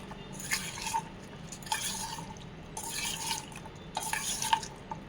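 Ingredients being mixed with mustard oil in a bowl, a series of wet squelching, stirring bursts coming in roughly four short waves, close and fairly quiet, with no voices.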